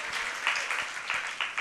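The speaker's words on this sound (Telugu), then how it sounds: "చప్పట్లు కొట్టి దేవుని స్తుతిద్దాం." A church congregation claps hands together in praise, a dense, steady patter of many hands that continues throughout without a break.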